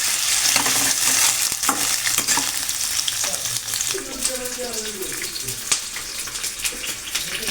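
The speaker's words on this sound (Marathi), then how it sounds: "पनीर घेतले बघा गोल्डन ब्राऊन रंगावर फ्राय करून" Paneer and vegetables fry in a hot pan, a loud, steady sizzle close up, broken by scraping stirs and clinks throughout, with a voice faintly heard under it.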